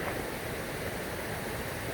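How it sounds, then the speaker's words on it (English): Mingo Falls, a waterfall near Cherokee, North Carolina, pours with a steady, dense broadband rush that holds constant throughout, close and fairly soft, with no voices over it. "The first of the 5 waterfalls that we hiked to was Mingo Falls"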